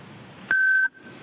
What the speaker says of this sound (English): You will hear a recording that will tell you to begin your comments after the beep.